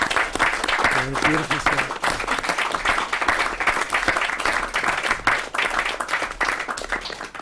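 An audience applauds at an assembly of leaders, with sustained clapping throughout and a voice speaking over it.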